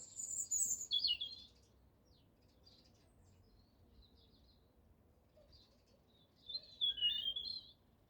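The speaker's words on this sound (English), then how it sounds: "Let's just have a little listen to those birds before I go." High, thin bird chirps come in two short bursts, one at the start and one near the end, with quiet background between.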